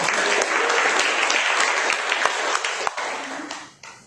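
A congregation at a church service claps in sustained applause, dense and steady, then thins out and fades away toward the end.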